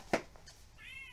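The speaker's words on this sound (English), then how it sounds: "It says with meowing box." A novelty toy box shaped like a cat's litter box gives off a short electronic meow, a burst followed by a rising tonal wail, faint and alone.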